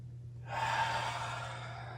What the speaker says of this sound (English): We can exhale through the mouth. Cleansing breath.